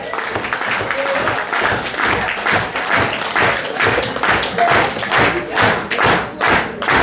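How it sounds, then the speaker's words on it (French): Audience applause after a jazz set at a concert in Le Blanc, November 2012. Dense, steady clapping carries on loudly for several seconds with no talking. "On peut les applaudir, bien sûr, très très très très fort."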